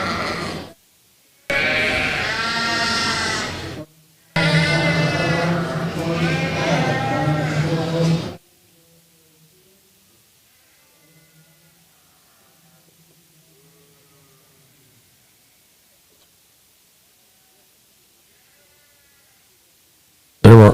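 Rambouillet ewes bleat loudly at a livestock show, two long wavering calls close by, followed by a long stretch of near silence with only faint distant noises.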